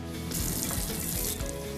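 Water pours from a tap into a Puritii filter bottle, a rushing, hissing stream that grows fuller for a moment before easing off.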